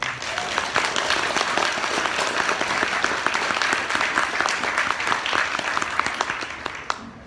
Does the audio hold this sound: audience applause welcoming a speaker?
yes